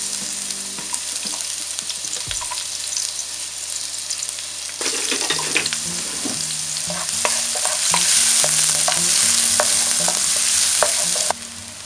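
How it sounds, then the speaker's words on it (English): Onion sautéing in oil in a pan, cooked alongside Italian sausage for a gnocchi and porcini dish: a steady close sizzle and frying hiss runs throughout, growing louder midway, with repeated scrapes and clicks of stirring. "So I'll just saute our onion."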